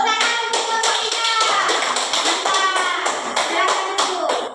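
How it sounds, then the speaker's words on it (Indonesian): Students in a primary school classroom clap for a presenting group, a close, loud burst of many hands slapping in quick, uneven rhythm, with children's voices mixed in. "tepuk tangan untuk kelompok 3"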